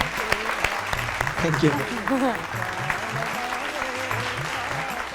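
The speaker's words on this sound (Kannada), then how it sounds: "ಬರ್ಲಿ, ಜೋರ್ ಚಪ್ಪಾಳೆ." An audience claps on a music show stage, with applause running beneath a voice that speaks briefly over it.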